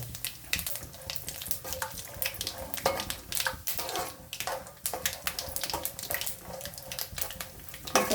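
Cumin seeds, peanuts and chana dal frying in hot oil for savory vermicelli upma, a steady crackling sizzle with scattered pops and occasional stirring scrapes, close and continuous throughout.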